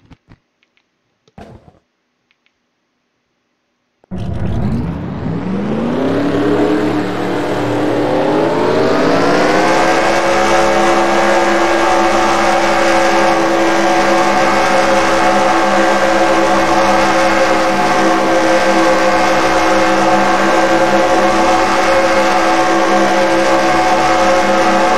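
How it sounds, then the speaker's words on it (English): Race car engines starting at Pocono in a racing game: after a few faint clicks and near silence, a loud engine roar kicks in and climbs steadily in pitch, then holds a sustained, powerful revving drone to the end. "Gentlemen, start your engines."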